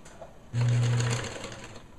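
A sewing machine stitches satin ribbon along the front edge of a baby's bereavement bonnet, a steady motor whir starting abruptly and running for about a second before trailing off, close and alone with no talk.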